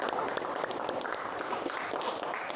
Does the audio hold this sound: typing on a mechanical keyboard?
no